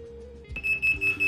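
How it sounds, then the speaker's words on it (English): A Sanwa PC700 digital multimeter emits a high, steady electronic alarm tone in short repeated beeps, close and clear after a brief quiet hum. "now we're getting an audible alarm"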